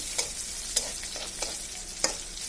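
Garlic frying in oil for a taro leaf dish, a steady sizzle with a few sharp stirring scrapes at irregular intervals.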